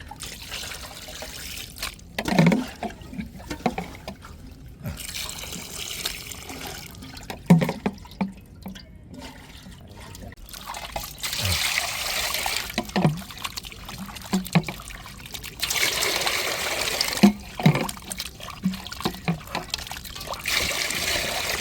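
Country chicken pieces being rinsed by hand in a bowl of water for a curry, with repeated splashing and sloshing in bursts, close and moderately loud, and no talking.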